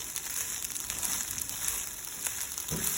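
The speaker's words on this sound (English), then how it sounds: "I had to cook this down for about 5 minutes on medium, and now it's sizzling." Fried rice sizzles in a pan after cooking on medium heat, giving a soft, continuous crackle with a few faint pops, quiet and without voices.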